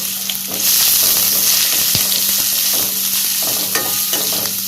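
Onions and green chilies sauté in a hot pan with a dense, continuous sizzle, close and loud, with occasional soft scrapes of a spatula and no talking.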